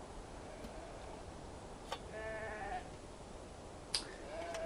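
Sheep bleat faintly on a ranch in the video game Beyond Two Souls, a couple of short distant calls over a steady hiss of ambient noise with small ticking clicks.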